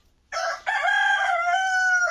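A rooster crows once, close and loud, a long ringing cock-a-doodle-doo with a brief break near the start, alone without talk, near a greenhouse.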